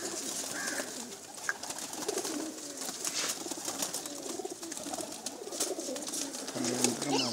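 Female pigeons cooing in a rooftop loft in a Pakistani village, with soft repeated coos and wing flutters close by, partly under quiet talk.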